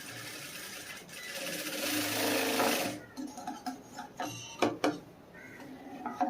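A sewing machine stitching the front part of a cross-cut blouse runs in a loud continuous whir, then breaks into short stop-start bursts of needle chatter with brief pauses between them.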